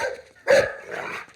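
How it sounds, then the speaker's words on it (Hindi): A dog gives a single short, sharp bark in the middle, framed by softer whining yips before and after, close and fairly loud. "अबे कुत्ते क्यों भौंक रहा है?"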